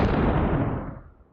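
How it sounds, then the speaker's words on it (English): A gunshot salute: a single loud, booming report with a rumbling tail that slowly dies away. "Gunshot salute."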